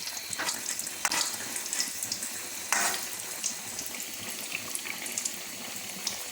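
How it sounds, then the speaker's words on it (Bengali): Malpua pancakes fry in oil with a steady hiss and crackle. A few louder spits and bubbling bursts rise above the constant sizzle, and no voices are present. "এভাবে ভাজতে ভাজতে লাল হয়ে আসলে আপনারা এটাকে উল্টে দিতে পারেন"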